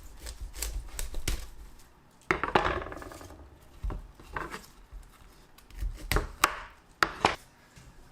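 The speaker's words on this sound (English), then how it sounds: "I'm gonna start with the easiest thing, which is chopping and breaking down this broccoli." Knife chopping broccoli on a cutting board at home, a run of sharp, irregular knocks and crunches, close and fairly loud, with brief pauses between bursts.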